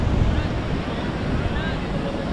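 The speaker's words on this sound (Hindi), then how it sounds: "यहाँ की लहरों को, ये देखिए भाई।" Sea waves surge and wash continuously at Bandra Bandstand in Mumbai during stormy weather, a loud, dense roar mixed with heavy wind buffeting on the microphone.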